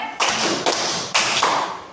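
A classroom of students clapping in a clapping game, a few loud, slightly ragged group claps close by, spaced roughly half a second apart with no talking.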